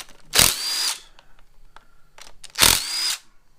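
A power tool spins out 10mm bolts on a 2008 Subaru Impreza during a timing job, with two loud whirring bursts about two seconds apart and quiet clicks and handling noises between them.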